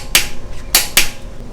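Three sharp, close clicks from a torque wrench tightening a lightweight pulley bolt on a car engine, one short snap followed after a pause by a quick pair, loud against a quiet background.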